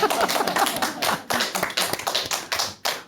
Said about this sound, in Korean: 여러분 박수 좀 쳐야 되는 거 아니에요 지금?